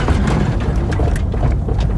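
Loud, continuous low exhaust rumble from a lowered 1995 Honda Accord while driving on the road, a steady drone with road noise and no talking.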